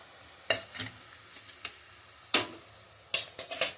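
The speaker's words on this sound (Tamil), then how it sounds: "முறுக்கு போடுறேன் இப்போ எண்ணெயில்." Murukku dough pieces dropped into hot oil on a slow flame, giving quiet intermittent sizzling bursts and faint clinks of a utensil, with no talking.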